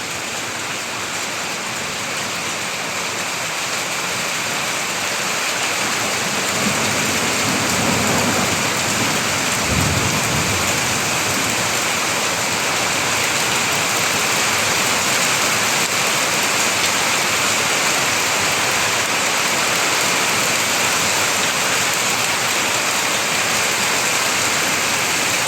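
A hailstorm with heavy rain hammers down in Davutlar, Kuşadası, filling a veranda with hail; a steady loud roar of falling water runs throughout, with a low rumble of thunder rolling through early on.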